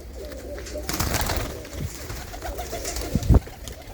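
Desi pigeons near Amritsar coo close by in a low, repeated murmur, with a brief burst of rustling or wing movement and a sharp knock near the end.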